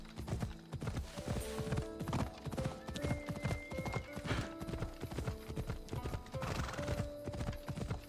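Horse hooves clip-clopping at a steady trot in Assassin's Creed Odyssey, with a whinny rising over the rhythmic footfalls and faint ambient game sound underneath.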